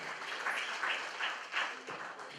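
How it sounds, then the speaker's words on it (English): Applause from an audience at a presentation night event, a soft, fairly distant patter of clapping that swells and fades slightly over a couple of seconds. "Your warm applause again, please."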